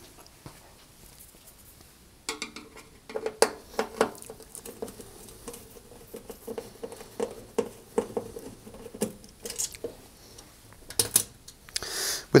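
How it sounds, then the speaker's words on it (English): Removing the griddle cover, reflector and two screws from a cooker top brings a series of light metallic clinks, taps and scrapes, scattered and fairly close after a quiet start, with no talking. "I need to remove the griddle cover, take out the griddle reflector, and then undo these 2 screws here."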